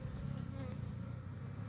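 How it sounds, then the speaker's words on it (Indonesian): Honey bees buzz around a hive in a low, steady drone, a close swarm hum that holds without pause through the short moment. "Ayo lebah-lebah masuk."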